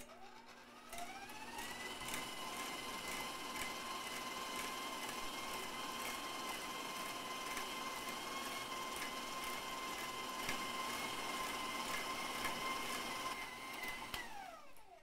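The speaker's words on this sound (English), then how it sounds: "It should take you about a minute to get all of the sugar beaten in at medium speed on your mixer." An electric mixer beating sugar into batter at medium speed for Irish tea cakes, a faint, steady motor whine that spins up, holds evenly for about thirteen seconds, then winds down, with no talk.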